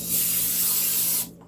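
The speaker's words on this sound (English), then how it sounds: "I'm going to actually spray my pan. It's a non-stick pan" Cooking spray shot onto a non-stick pan in one steady hissing burst of just over a second, close and loud, cutting off sharply, with no speech.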